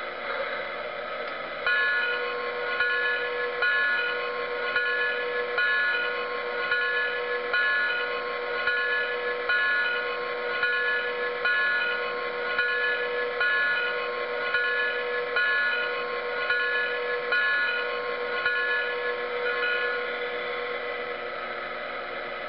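A Lionel O gauge Polar Express steam locomotive's tender rings its bell sound, a bright, steady metallic ringing that repeats continuously at even strength for about twenty seconds, close and without talk.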